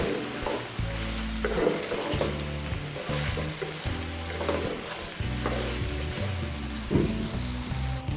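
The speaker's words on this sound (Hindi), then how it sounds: "अब हम इसके साथ इसको भुनेंगे।" Crushed ginger and garlic frying with chicken for an Afghani karahi, a continuous close sizzle with intermittent stirring scrapes and clinks throughout, no voices.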